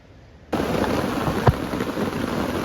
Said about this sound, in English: it is flipping hossing it down, bro. Mate, it's proper raining, man.